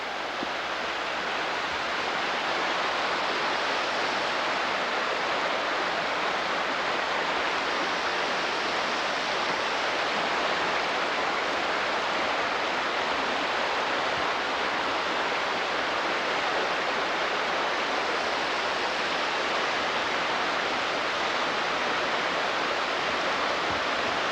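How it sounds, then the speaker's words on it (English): A river near an Appalachian Trail cabin rushes in a dense, constant broadband roar, loud and unbroken throughout with no voices or other sounds over it. "Here's the river."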